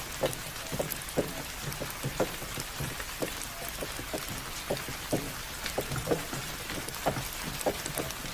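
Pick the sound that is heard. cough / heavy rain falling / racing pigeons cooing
heavy rain falling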